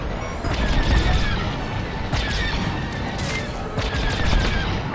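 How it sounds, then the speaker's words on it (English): Rapid bursts of laser cannon fire from starfighters in the Star Wars Squadrons video game, dense crackling volleys repeating through the stretch and loud against a constant engine-like rumble. "Give your laser cannons time to recharge."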